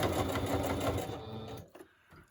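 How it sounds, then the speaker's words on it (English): Sewing machine running a messy stitch, a fast, dense mechanical rattle for about a second and a half before stopping, followed by a few faint clicks and handling sounds. "So let's do a little messy stitch."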